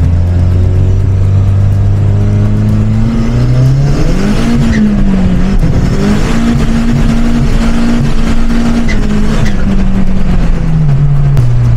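Volkswagen Golf accelerating hard on a partly wet road, its engine note climbing steadily through the gears with a loud, close, continuous roar and a brief dip between pulls.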